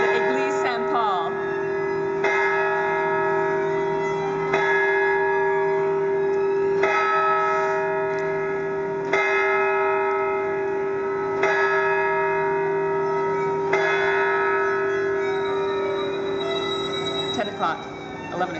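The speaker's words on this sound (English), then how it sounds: "These are the bells of the Eglise St." Church bells of Église Saint-Paul in the Marais, Paris, toll in slow, evenly spaced strikes with long ringing hum between them, loud and sustained over nearly twenty seconds.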